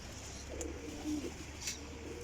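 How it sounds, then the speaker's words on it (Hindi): A sturdy jeera pigeon coos softly and low, a murmuring call repeated briefly in a quiet loft setting with faint bird chirps above, no talking. "जीरा कबूतर बहुत अच्छा तगड़ा कबूतर जी।"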